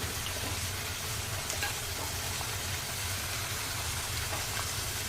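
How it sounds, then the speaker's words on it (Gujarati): Food seasoned with turmeric and salt cooks in a pan, giving a continuous close, even sizzle and frying hiss that runs without pause, with faint stirring scrapes beneath it. "આ પ્રમાણે મેં નાખ્યું છે અને હવે હું હલાવી રહી છું"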